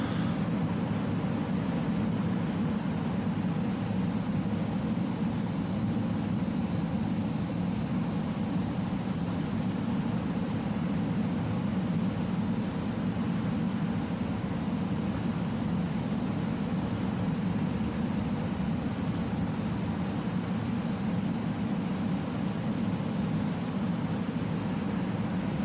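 BAE Hawk T1 jet flying touch-and-go circuits in Microsoft Flight Simulator, a steady, moderately quiet engine roar with a constant high whine carrying on evenly throughout.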